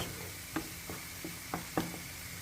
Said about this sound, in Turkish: Yaklaşık 5 dakikadır soğanlarımızı kavurduk, karamelize ettik.